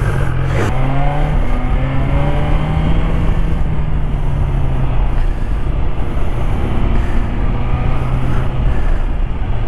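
A 2020 BMW S1000XR motorcycle is ridden at speed, its engine droning steadily and loudly with shifting pitch under constant wind rush and no talking.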